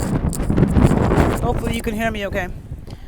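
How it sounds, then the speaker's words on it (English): Gusty wind buffets the microphone with low rumbling roar while a person speaks over it. "sorry, it's so windy."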